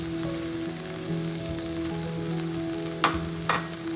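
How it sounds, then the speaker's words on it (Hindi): Flour being roasted in a pan for a chicken bread filling, giving a steady close sizzle over a faint tonal hum, with two sharp clicks of a spoon against the pan near the end; no talk. "और फ्लावर को थोड़ा सा भून लेंगे ताकि उसका कच्चापन निकल जाए।"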